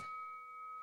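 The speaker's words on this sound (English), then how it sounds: "let's hit the bell." A single bell ding on a wrestling talk show, a bright sustained ringing tone heard alone and fairly quiet, lasting under a second.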